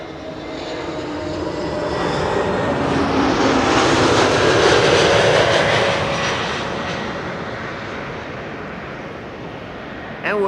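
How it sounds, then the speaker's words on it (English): An A321neo airliner lands at Amsterdam Schiphol on arrival from Dublin, its jet engine whine swelling as it passes nearby, peaking midway and then fading, with a voice speaking faintly over it. "First up, Shamrock flight 604 A321neo arriving from Dublin, Ireland."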